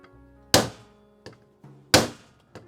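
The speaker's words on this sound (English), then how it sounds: "Some hard hits." An Apple keyboard is struck hard against a surface to knock out a leaking battery, giving two loud thuds and a few lighter knocks in an uneven rhythm, close and alone.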